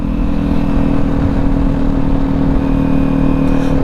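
A 400 motorcycle accelerating hard, with a loud, steady engine drone and strong low rumble held close throughout with no break.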